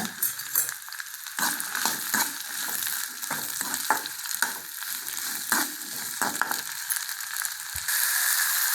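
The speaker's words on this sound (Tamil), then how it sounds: "வாங்க அந்த சுண்டைக்காய் இதில் போட்டுக்கலாம் நல்லா வறுத்தரலாங்க" Turkey berries (sundakkai) dry-roasting in a pan for idli podi, scraped and tossed repeatedly with a spatula, giving rattling, clicking stirs over a continuous sizzle, close and without talk.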